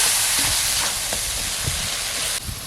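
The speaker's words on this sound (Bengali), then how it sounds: "ভালো করে মশলাটা কষে নেব।" Spice paste with turmeric and chili powder frying in a pan for a village-style fish curry, a steady loud sizzle with scraping stirs throughout.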